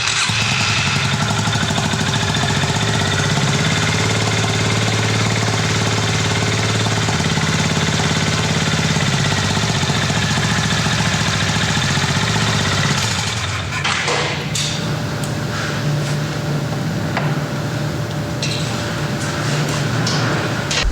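Air-cooled 340cc single-cylinder engine of a 2025 Honda GB350S motorcycle running steadily at idle, a loud continuous low throb close by that grows rougher and noisier partway through, with no talking.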